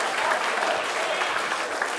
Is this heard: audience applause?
yes